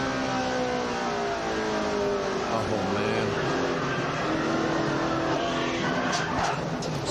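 Onboard engine of a NASCAR race car at the 2004 Ford 400 roars as a steady, loud drone with shifting pitch lines throughout, while a voice briefly speaks over it.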